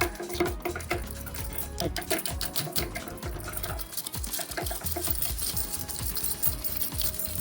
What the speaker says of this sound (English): we have a bunch of keys here to find out how scratch resistant it is